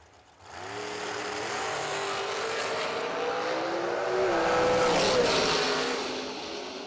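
Drag racing door cars launch down the track at a summer event, engines roaring loud and rising in pitch as they accelerate away, with a sustained blended rumble of multiple cars.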